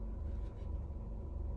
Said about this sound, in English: my bad if y'all hear my car humming.